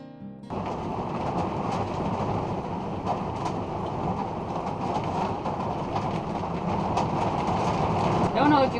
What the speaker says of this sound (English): I don't know if you can hear me, but that's the rain outside right now.